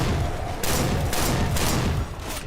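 Rapid shotgun blasts from the Left 4 Dead 2 game form a dense, continuous barrage with several distinct loud bursts packed close together.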